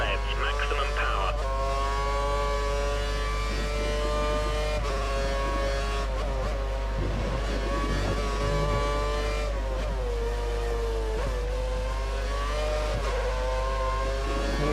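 Lotus Formula 1 car in the F1 2013 game at Hungary, engine screaming at full revs with a constant high whine and brief gear-shift dips, steady and loud beneath a commentator's voice.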